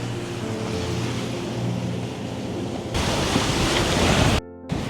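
A sailboat's motor runs at sea in light wind, a steady low engine hum blended with wave and water wash, then a louder rush of water and wind noise near the end.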